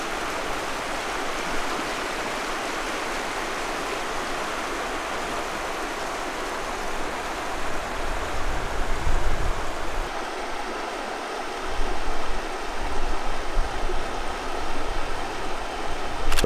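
Small stream flowing under a footbridge in the Ozarks near a large spring, a steady broadband rush of water heard up close and alone, swelling slightly in places.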